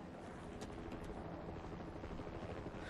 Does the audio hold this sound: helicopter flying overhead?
yes